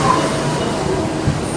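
A 683 series Thunderbird limited express train pulls into Shin-Osaka station with a steady, loud, close rumble of wheels and rolling stock that fills the whole moment.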